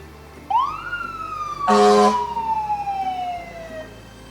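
A loud fire engine siren wails in a long rising then slowly falling sweep, with a brief blast of a horn in the middle, close by, at a Christmas parade.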